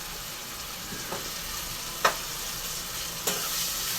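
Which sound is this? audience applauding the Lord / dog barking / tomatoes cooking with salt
tomatoes cooking with salt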